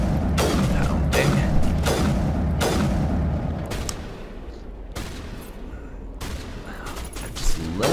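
Sniper rifle fire in Mass Effect Legendary during a Geth incursion against Krogan: several loud, sharp shots at irregular intervals, each with a booming tail, over steady battle rumble, with a voice talking at points.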